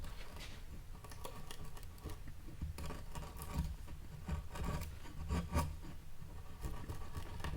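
A chisel pares a wooden furniture piece flat in short, faint, raspy scraping strokes. The strokes come in an uneven rhythm, close by and quiet, with no talking.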